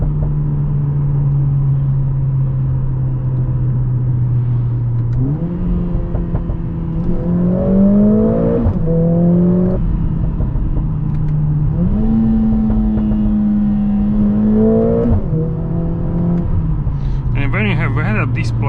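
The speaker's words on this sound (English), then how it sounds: "You can hear these nice bangs on the upshift." A 2021 Mercedes-AMG GLA 45 S accelerating through the gears, its engine note climbing and dropping with each upshift and short exhaust pops on the changes, heard from inside the car under steady talking.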